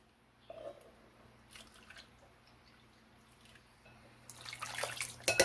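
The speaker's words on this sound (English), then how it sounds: "Then you're going to use 1 cup of boiling water." Boiling water is poured into a bowl of lime gelatin for a poke cake, a short splashing pour near the end after a few soft kitchen clinks in a quiet room.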